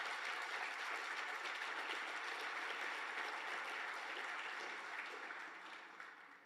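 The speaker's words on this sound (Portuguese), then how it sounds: "Pode aplaudir Jesus" Steady, dense applause from a church congregation during a sermon, a continuous wash of many hands at moderate distance that holds for several seconds and then fades slightly toward the end.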